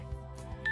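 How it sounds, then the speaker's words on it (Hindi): Near the end, a short electronic alert tone beeps from a Mahindra EarthMaster backhoe loader warning of low diesel level, clear but quiet against a low rumbling background. "मशीन से मैसेज आया है,"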